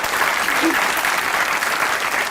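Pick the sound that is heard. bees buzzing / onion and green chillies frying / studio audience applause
studio audience applause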